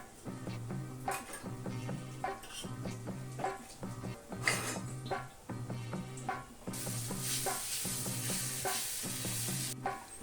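Adai batter cooks on a hot tawa with a steady, close sizzle, punctuated by repeated scraping and tapping strokes in a regular rhythm, then a louder hiss of frying near the end; no one speaks.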